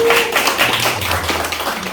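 A seated audience at a local community forum breaks into a short burst of dense, steady applause, many hands clapping together at close range.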